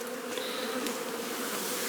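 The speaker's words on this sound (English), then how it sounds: "I can tell you there's tons of bees in here." A dense, steady drone of many bees fills an open beehive during a late-season hive inspection in Newfoundland, a continuous close buzzing with no talk.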